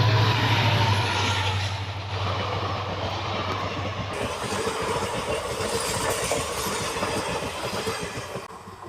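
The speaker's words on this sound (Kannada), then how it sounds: "ಇಲ್ಲಿ ಬಂದ ಫಸ್ಟ್ ಟೈಮ್ ಟ್ರೈನ್ ನೋಡಕ್ಕ ನೋಡ್ರಿ ಹತ್ತಿರದಿಂದ" A train passes nearby with a steady, loud rumble and rhythmic rail clatter lasting several seconds, and no voices.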